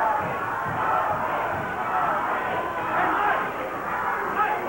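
Wrestling arena crowd jeering wrestler Al Madril, a steady dense roar of voices holding at a constant level throughout, with no distinct individual calls standing out.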